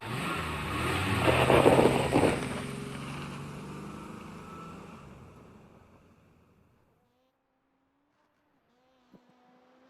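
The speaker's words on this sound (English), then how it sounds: "engine!" Race car engine in the iRacing sim racing game, revving hard and loud up close, then fading away over several seconds into near silence, with a couple of faint tonal blips near the end.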